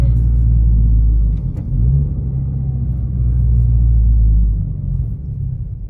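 A 2023+ Honda Civic Type R FL with an HKS Hi-Power catback exhaust gives a deep, loud rumble close by, dipping briefly and then holding steady before fading slightly at the end.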